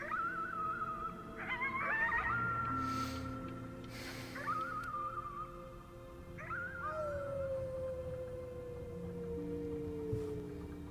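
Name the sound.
child howling at the moon, from video game Before Your Eyes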